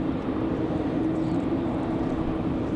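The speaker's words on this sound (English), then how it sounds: "NetJets coming in from Minneapolis, Cessna Citation Latitude." NetJets Cessna Citation Latitude business jet landing on runway 23 left at Raleigh-Durham International Airport, a steady broad engine roar holding constant and fairly loud with a low droning hum throughout, no voices.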